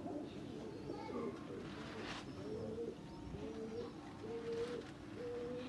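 Qasoori golden Kamagar pigeons coo in repeated low, rolling calls with a steady rhythm, close by, over a constant background hum.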